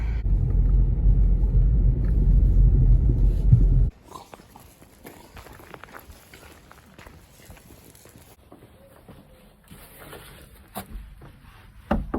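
A car driving on the road makes a loud, steady low rumble for about four seconds, then the sound drops to a quiet, faint background with scattered small noises.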